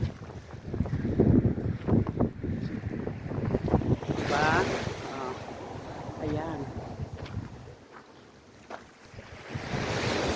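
Sea waves wash against a rocky shore in winter under steady wind noise, with a few brief voices and rustling close to the microphone.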